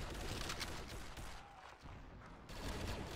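Heavy machine gun fire in an online video game, a dense, continuous rattle of rapid shots with a brief dip before it resumes, muffled and fairly faint.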